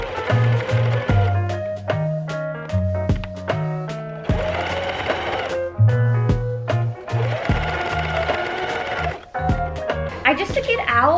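A sewing machine runs in bursts, its motor whirring and needle stitching in rapid rhythmic chatter, with stops between runs and some background sound.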